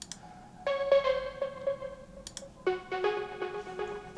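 Unprocessed Serum synth lead, dry and plain with no effects, playing a short melodic phrase of bright sustained tones in two groups, the second more clipped and rhythmic, alone and moderately loud.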